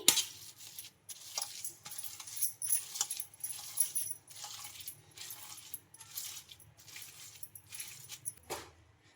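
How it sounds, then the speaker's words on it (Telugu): A spoon mashing soaked flattened rice (poha) in a metal bowl, repeated irregular clinks and scrapes of metal against metal, close and fairly loud, with no talking. "దీంతో అయితే స్మాష్ చేస్తున్నానండి నేను ఇక్కడ బాగా మెత్తగా మెదపాలి"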